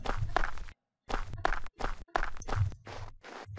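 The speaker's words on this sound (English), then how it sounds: "you can hear that we have our cobblestone footstep sounds playing" Cobblestone footstep sounds triggered in a game engine test, a series of distinct close steps with short silent gaps between them.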